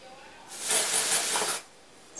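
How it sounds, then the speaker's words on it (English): A single continuous hiss of Dove hairspray sprayed onto hair, lasting about a second, close and fairly soft, with quiet room tone before and after. "So now we're going to hairspray our hair,"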